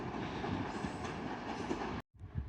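A train runs through York station on the East Coast Main Line with a steady, loud rolling rumble and a faint wheel clatter, then cuts off abruptly near the end.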